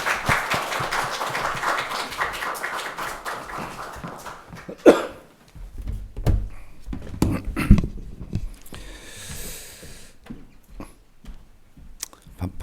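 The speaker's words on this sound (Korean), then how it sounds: "우리 목사님 나오실 때 우리 박수로 환영하겠습니다." A church congregation applauds to welcome the pastor, a burst of clapping that fades and gives way to scattered quieter sounds.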